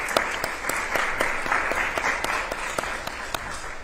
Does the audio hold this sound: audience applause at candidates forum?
yes